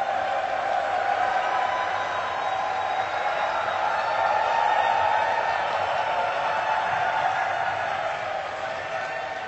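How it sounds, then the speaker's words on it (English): A large crowd at a Dota 2 All-Star esports event keeps up a steady, distant roar of cheering and noise that stays even throughout, with no clear individual voices. "Now let's get you guys cheering once again so everybody start making some noise."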